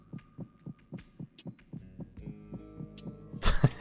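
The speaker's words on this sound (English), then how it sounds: "The fucking rapid heart beating." Rapid heartbeat effect in the video game Metal Gear Solid 2, a quick, even thumping pulse repeating about three times a second under a low hum, ending in a louder burst of other game sound.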